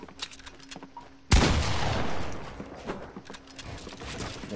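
A single sharp burst of gunfire erupts in Fortnite, loud and close, followed by a decaying crackle and faint rattling, over a quiet game background with no talking.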